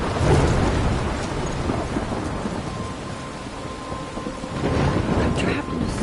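A thunderstorm in the video game Life is Strange: steady heavy rain with rolling thunder swelling near the start and again toward the end, continuous throughout.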